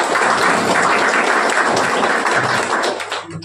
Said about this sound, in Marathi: त्यांच्यासाठी एकदा आपण जोरदार टाळ्या म्हणूया.